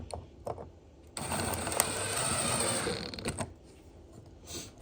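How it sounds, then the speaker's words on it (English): A self-tapping screw is driven into the license plate light housing of a Chevy Cruze, giving a close, steady mechanical whirring and grinding that lasts a couple of seconds, with brief clicks and rattles before and after. "I'm just gonna put another self-tapper in this one as well"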